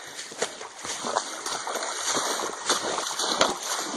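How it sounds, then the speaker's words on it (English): Trail runners splash through Seneca Creek at a stream crossing in the West Virginia mountains, a close, steady churn of water with repeated footfall splashes and no talking. "Stream crossing. Crossing Seneca Creek here."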